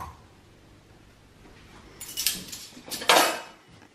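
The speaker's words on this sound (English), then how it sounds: "Make sure you stir it around." A metal spoon stirs brown sugar into vindaloo in a pot, giving a few clinks and scrapes against the pot in the second half, close and fairly clear after a quiet start.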